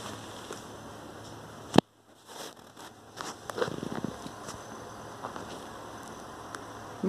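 A DEXP RF-MN552DSY/BGI multi-door refrigerator's compressor runs with a quiet, steady low hum, with a few sharp handling clicks and bumps near the start and midway.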